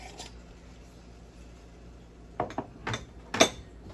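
A few sharp scrapes and clinks of a spoon stirring a pot of pork with Italian seasoning, four quick strokes close by after a quiet stretch.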